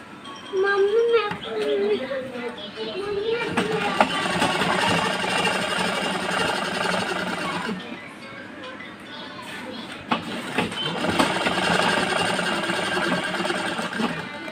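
A sewing machine stitches a blouse seam in long continuous runs with a brief pause midway, its motor whirring fairly close, while someone talks intermittently over it.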